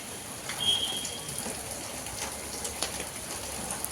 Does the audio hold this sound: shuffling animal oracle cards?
no